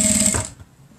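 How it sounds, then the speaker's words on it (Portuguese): A sewing machine stitches the firm velcro section of a fabric bread-bag, running steadily for about half a second and then stopping abruptly into quiet. "E aí, a gente vai costurar a parte mais firme"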